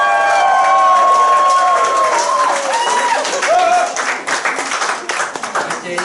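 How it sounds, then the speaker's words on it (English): An audience at an international night event claps and cheers for Greece, with dense applause and crowd noise filling the clip. A high sustained tone runs through the first half, and the applause thins out toward the end. "So everyone clap your hands for Greece."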